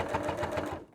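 A sewing machine stitches a tote bag handle in a quick, close, rhythmic whir of needle strokes that stops after about a second.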